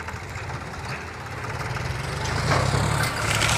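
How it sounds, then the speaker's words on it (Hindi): A John Deere tractor engine runs steadily beside a working Vishal 435 combine harvester during a crop harvest, a low diesel drone that grows louder toward the end, with no voices. "देख सकते हैं ये जॉनडियर ट्रैक्टर जाने लगी है"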